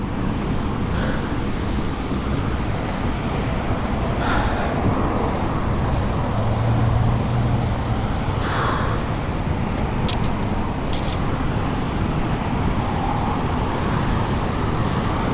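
Steady road traffic roar from passing cars fills the air around a cyclist riding home through a commute between Carmel and Indianapolis, a continuous broadband wash with brief swells as vehicles go by, no voices.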